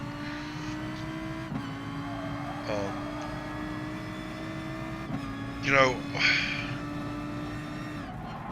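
A Lamborghini race car engine in a racing video game holds a steady drone, with a few abrupt pitch shifts as gears change, while someone talks over it.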